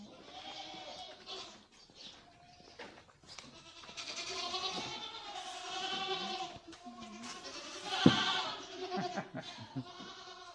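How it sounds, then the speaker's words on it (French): Several goats bleat repeatedly at close range, overlapping wavering cries with a brief sharp knock near the end. "Comment on dit le bruit des chèvres?"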